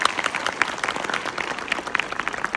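Enthusiastic audience applause at a school function, a dense burst of many hands clapping loud and steady, with no speech over it.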